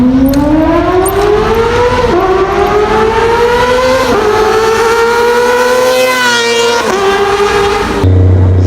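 A Kawasaki ZX25R inline-four motorcycle screams loud and close through repeated rising revs, each climb to a high pitch followed by a brief drop as it shifts, with a low idle rumble at the end.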